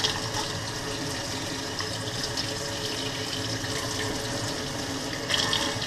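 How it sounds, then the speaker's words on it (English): Tap water runs steadily over a freshly cleaned rainbow trout in a sink, a continuous splashing rinse with a brief louder gush near the end, no talking. "Give it a final rinse."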